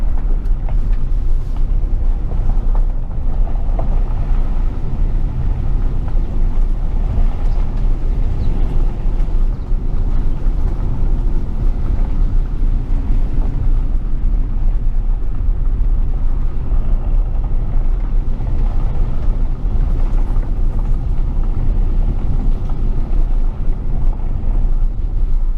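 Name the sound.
small turbo engine car driving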